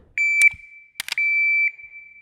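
A sharp electronic beep sounds, followed by a quick pair of gunshots and another steady beep, all crisp and close.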